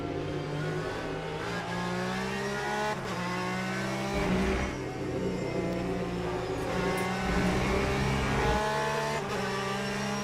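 A Porsche race car engine from the sim racing game Le Mans Ultimate drones steadily at high revs, with shifts and small dips in pitch and a brief tire squeal, heard alone without talk.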